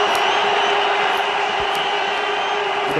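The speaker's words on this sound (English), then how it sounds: "The crowd go berserk." A stadium crowd at a 2004 ICC Champions Trophy cricket match between India and Pakistan roars in a steady wall of cheering, loud and unbroken, with a few sharper shouts rising out of it.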